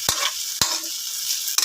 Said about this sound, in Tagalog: So ayan, gisa-gisa lang natin.